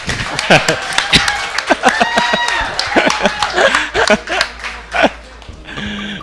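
A live crowd at a speedrun event in Hawaii claps and laughs in a burst of sharp, scattered hand claps mixed with chuckles and lively talk, ending with a short tone.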